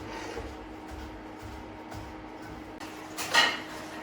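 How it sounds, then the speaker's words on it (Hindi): A spoon scrapes and clinks slowly against a pot of milk simmering for rice kheer, soft steady stirring strokes with a brighter metallic clink near the end, no talking. "इसको हम ऐसे ऐसे आहिस्ता आहिस्ता हिलाते जाएंगे"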